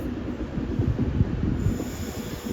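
A Class 390 Pendolino passes through Carlisle station in bad weather, heard as a fairly close low rumble of wheels and rail noise with faint rhythmic clatter, steady throughout.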